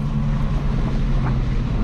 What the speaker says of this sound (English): I love the engine sound of that Porsche